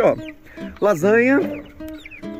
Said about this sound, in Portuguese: São nossas três galinhas.